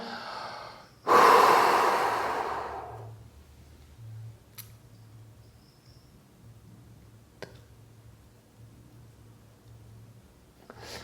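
A freediver blows out one full exhale, a loud breathy rush that fades over about two seconds. The breath is then held, leaving near silence with a few faint clicks.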